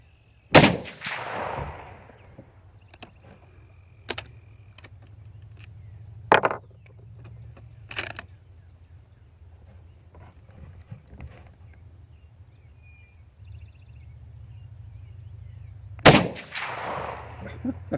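Outdoor rifle fire from a Remington 30 S Express built from an M1917: three sharp, loud shots spaced far apart, each with a trailing echo, plus faint clicks and low background rumble between them.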